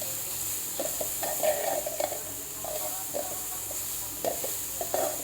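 Protein salad being tossed with salt and pepper in a bowl, a close run of soft irregular stirring scrapes and light clinks from a utensil against the dish over a faint steady background hiss.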